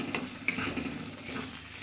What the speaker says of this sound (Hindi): अब इसमें हम डाल देंगे घर का दूध का मलाई है, इस तरह से चलाएंगे।